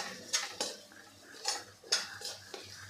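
Spices such as turmeric powder, Kashmiri red chilli powder and coriander masala stirred in a pan for a beans sabji, with a spoon scraping and clinking against the metal in several sharp, irregular strokes; close and fairly quiet.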